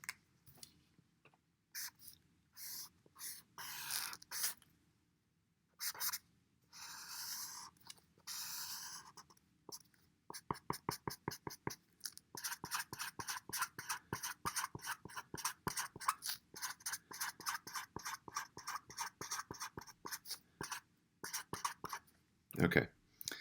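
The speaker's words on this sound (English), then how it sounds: "Let me draw this again because it's getting a little crowded." A pen sketches a diagram on paper or a board: scattered scratchy strokes at first, then a long run of quick, close, rhythmic scribbling taps, with soft low talk early on.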